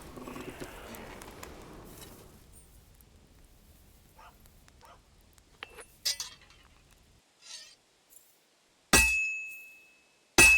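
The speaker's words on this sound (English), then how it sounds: "When I hammer a piece to a beat, the work goes by easier." A sword being hammered on an anvil at a forge in Kingdom Come: Deliverance II, heard as a few sparse, loud ringing metallic strikes separated by pauses, the later blows sharp and bright with lingering ring.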